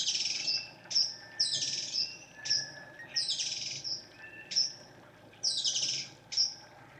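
Wild birds in Trinidad chirp in repeated bright bursts, roughly every second or so, with clear sweeping calls over a low background hum; no one speaks.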